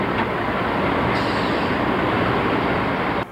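A Reading Blue Mountain & Northern train creeps along at 2 or 3 miles an hour over a scale, giving a steady loud rumbling roar of rolling railcars with a faint squeal, close by and with no talking.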